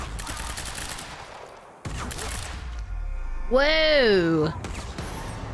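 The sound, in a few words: gunfire in video game Quantum Break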